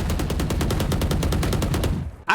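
Rapid automatic gunfire in a video game, a fast even stream of loud close shots for about two seconds, then a sudden stop and a final sharp burst, with no voices.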